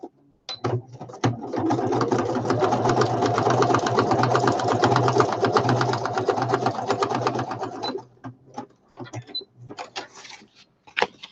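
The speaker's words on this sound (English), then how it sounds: "Let me do a straight stitch down the side of that" Domestic sewing machine running a straight stitch down the side of a journal piece, a loud, close rhythmic clatter for about seven seconds, framed by handling clicks before and after.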